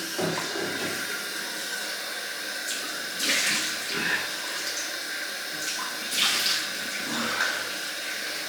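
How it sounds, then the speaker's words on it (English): Cold tap water runs steadily into a sink for a rinse after a shave with a 1972 vintage Gillette Slim Twist razor, giving a continuous close hiss with a few louder splashing surges. "Cold water rinse."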